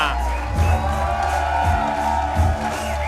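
A live standup comedy show audience keeps up clapping and cheering as a comic is brought on, with a steady crowd roar and scattered whoops under a loud host voice talking over it.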